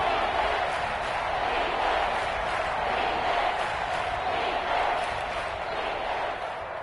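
Steady roar of a stadium crowd building at an American football game ahead of a big third down, a dense continuous wash of cheering voices filling the whole stretch at even loudness.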